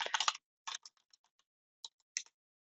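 Keys on a computer keyboard clack in a quick burst, then a few scattered single taps follow, close and crisp against near silence.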